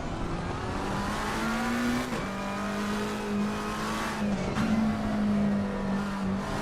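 A GT race car in Assetto Corsa Competizione at league practice, engine droning steadily at high revs with gear shifts and rising pitch, loud and continuous with no talk.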